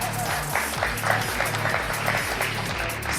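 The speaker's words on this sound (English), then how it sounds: "Give yourselves a round of applause." An audience at a live show in a community centre claps and cheers in a steady, full round of applause, with low music or hum running beneath the crowd noise.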